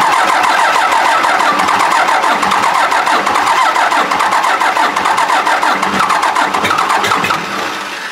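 Cummins diesel engine in a long-bed pickup firing up after injector bleeding, a loud, rough clattering start that settles into a steady throbbing idle, close by and alone.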